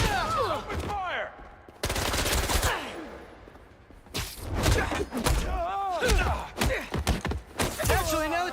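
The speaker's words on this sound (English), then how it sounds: "Open fire!" Bursts of automatic gunfire and impacts in the Spider-Man 2 video game, loud rapid volleys separated by short pauses, mixed with grunts and voices shouting during combat.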